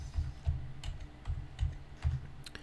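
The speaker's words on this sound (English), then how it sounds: "So we're going to type that number in." Fingers type an IP address on a computer keyboard: a handful of soft, closely recorded keystrokes in an uneven rhythm over a quiet background.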